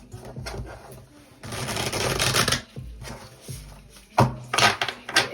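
Oracle life lesson cards are shuffled in bursts of riffling and sliding, with brief pauses between the rounds.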